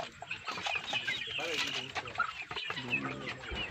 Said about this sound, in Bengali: ওইদিকে চিন মুরগি।